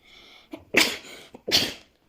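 Two sharp sneezes a moment apart, each with a brief inhaled build-up, close and fairly loud with no talking.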